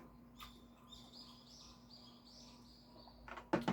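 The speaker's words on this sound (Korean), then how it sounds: "새들이 먹고 싶다고 지금 새소리가 나는 거죠?" Small birds chirping in a series of faint, brief high tweets over quiet background hum, ending with a louder clatter of nearby noise.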